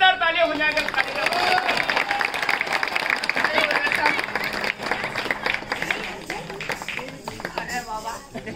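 Audience applause at a Rajasthani folk music performance of bhapang playing, a dense wash of clapping rolling steadily for several seconds with a voice talking over it and faint musical tones underneath.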